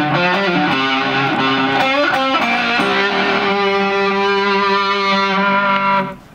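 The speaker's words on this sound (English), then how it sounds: "That's a real slow echo, if you can hear it." An electric guitar plays through a Mooer Reecho delay pedal set to a slow echo, its overdriven sustained notes and chords blooming with repeats before fading out at the end.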